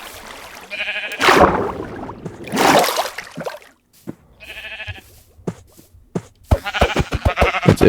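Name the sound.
sheep bleating in Minecraft video game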